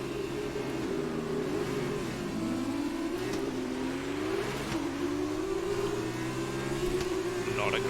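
A Formula 2 car in F1 2020 launches off the start line at Silverstone, its engine droning and rising through gear changes amid other cars, a steady mid-pitched whine with a voice talking over it.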